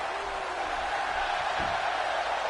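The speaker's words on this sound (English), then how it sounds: "Crowd coming alive." A wrestling crowd roars in a broad, steady wash of cheering and noise, loud and continuous throughout, with faint shouts rising within it.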